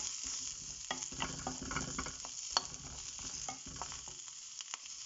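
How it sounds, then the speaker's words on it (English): Onion and ginger fry on a low flame, giving a soft, steady sizzle with light stirring scrapes, quiet and close. "we will add our onion and ginger. And we will fry them on low flame."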